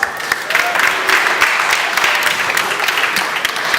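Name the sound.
audience applause at opening ceremony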